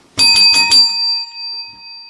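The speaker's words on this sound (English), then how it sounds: "Ring the bell again." Three quick bright strikes of a bell, close and loud, then a clear metallic ring that fades slowly into quiet.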